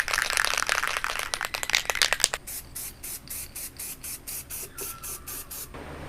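An aerosol can sprays fresh paint onto sanded, formerly corroded kayak rod holder tubes, first in rapid short bursts with rattling, then a series of about ten evenly spaced hissing puffs, close and clear.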